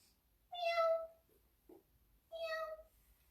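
Two drawn-out meows imitated by children during kids' yoga, clearly voices rather than a real cat, with a brief soft sound between them.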